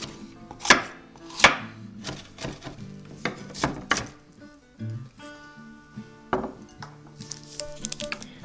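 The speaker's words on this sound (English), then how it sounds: "We'll start by chopping some vegetables." A knife chops a sweet pepper on a cutting board in sharp, irregular strokes, a few crisp cuts followed by quicker, lighter chopping nearby.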